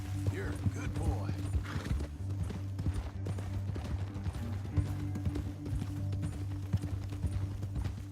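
Steady clip-clop of a video game horse's hooves at a galloping pace, with the horse whinnying near the start, over a low droning background.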